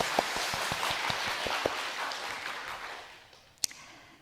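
Church congregation applauding after a choir's singing, a soft wash of distant clapping that fades away, ending with one sharp knock.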